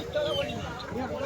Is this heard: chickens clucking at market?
yes